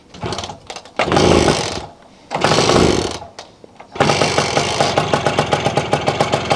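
A cold 1969 Lambretta GP125 scooter engine is kicked into life, with two loud surging bursts as the throttle is opened before it settles into a fast, buzzing, rhythmic two-stroke idle up close.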